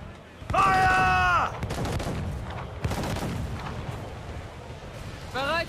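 A broadside of cannon fire booms from the Jackdaw, a sailing ship in the video game Assassin's Creed IV, with heavy rolling blasts and rumbling explosions under shouted voices of the crew.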